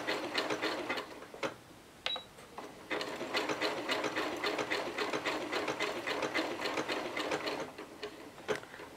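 Janome 6700P sewing machine stitching a decorative pattern, a fast steady mechanical chatter of needle and feed running nearly continuously, with brief pauses and sharp clicks, close and fairly loud.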